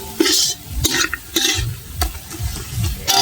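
Tomato chutney with cashews and raisins being stirred in a pan, a spoon scraping in short, uneven strokes over a soft sizzle, close and fairly loud with no voices.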